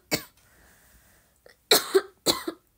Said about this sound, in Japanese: 咳が止まらん